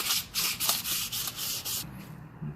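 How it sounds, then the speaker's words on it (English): Sandpaper rubs back and forth inside a Honda Accord wheel bearing hub, quick rhythmic scratchy strokes close up, then it stops, leaving a faint clatter. "I just run a little bit of sandpaper over that"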